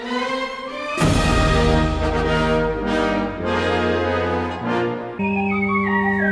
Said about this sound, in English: A good example might be the Triumphal March from Verdi's Aida